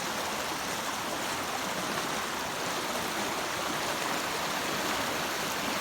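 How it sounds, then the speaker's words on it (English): A rain-swollen creek in flood in Eastern Kentucky rushes with a constant, dense roar of water, steady throughout and free of voices. "I want everybody to see how much water, how much rain we've had here, and how it is creeping up."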